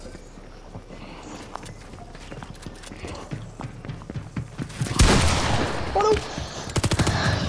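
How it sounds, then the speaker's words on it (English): Gunfire in the Fortnite video game crackles in rapid bursts and automatic volleys toward the end, loud and near, after a stretch of clicking and shuffling game noise, with a voice exclaiming briefly. "who's shooting my builds?"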